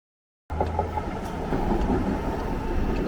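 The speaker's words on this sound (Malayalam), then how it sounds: "നമ്മളെ വിട്ടിട്ട് നമ്മളെ ട്രെയിൻ പോയിരിക്കുകയാണ്." A train departing in Dublin during summer: a steady, moderately loud rolling rumble begins after a short silence and continues unbroken.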